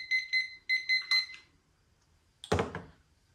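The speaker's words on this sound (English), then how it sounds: "our timers went off so we can get our grains out" Kitchen timers beep in several quick bursts during a one-gallon pumpkin beer brew, followed by a single sharp knock or thunk nearby, with quiet between the sounds.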